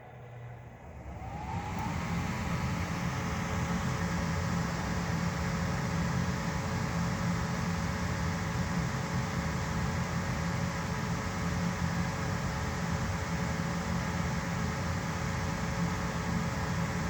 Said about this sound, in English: Alright, blower should be kicking on.